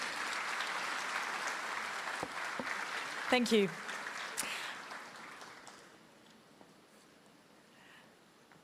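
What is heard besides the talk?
audience applause at a forum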